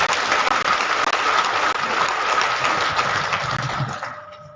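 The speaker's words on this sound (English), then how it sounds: "Can we please give the guests of honor another resounding round of applause?" Sustained round of applause from an audience at a Nigerian Armed Forces Resettlement Centre graduation ceremony in Oshodi, a dense steady wash of clapping that tapers off at the end.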